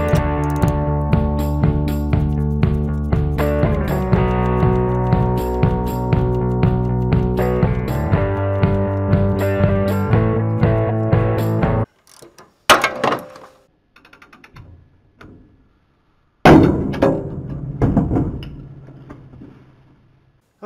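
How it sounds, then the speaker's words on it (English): A 3/4 inch ratchet tightens a suspension separator tool on a C10 pickup, giving a loud, rhythmic train of ratcheting clicks with a tonal ring. The clicks stop abruptly, then a few sharp metallic knocks and clanks follow. "We use our 3/4 inch and we just tighten away at this thing until it pops."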